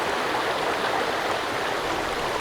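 Steady broadband rush of river water flowing in the survival game Sons of the Forest, continuous and fairly close with no pauses, and no talking over it.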